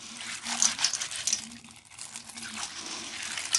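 Dry beans rubbed by hand in a bowl of water while being washed, giving close wet crinkling and rattling scrubs in uneven bursts.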